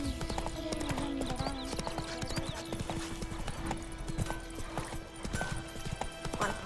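Roach, Geralt's horse in The Witcher 3, gallops with a rapid, rhythmic clip-clop of hooves, fairly quiet, joined by occasional whinnies over faint game ambience.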